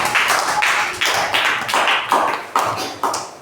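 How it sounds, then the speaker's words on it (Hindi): Children in a classroom clap together for a classmate, a loud steady round of rhythmic, evenly spaced claps with no talking over it. "ताली बजाओ उनके लिए।"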